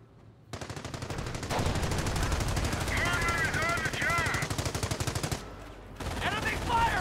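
Rapid machine gun bursts from Company of Heroes, a World War II strategy game, crackle loudly and continuously with dense battlefield gunfire, briefly cutting out before resuming near the end, with game voices mixed into the firing.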